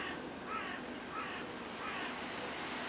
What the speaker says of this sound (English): Crow likes that idea.